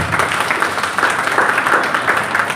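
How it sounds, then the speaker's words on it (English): An audience claps to welcome Shweta Agrawal at an Inner Wheel Club gathering. The applause is dense and continuous, filling the whole stretch at a steady, fairly loud level. "Clap, clap. Please clap."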